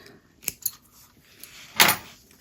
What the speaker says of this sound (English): Trimming those threads